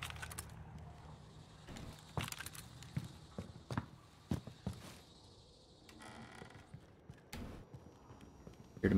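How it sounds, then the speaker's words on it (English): Footsteps of a player's own character in the battle royale shooter Warzone, a series of irregular, sharp, close taps and thuds over a quiet background of faint mechanical game sounds. "Heard my own footsteps here."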